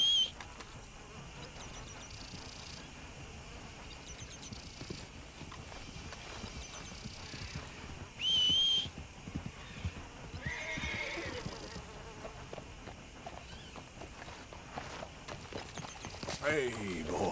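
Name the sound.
horse neighing and hooves, video game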